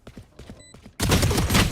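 Gunfire in the video game Valorant during a VCT Pacific match: faint quick taps and clicks first, then a sudden loud dense burst of shots that fills the last second.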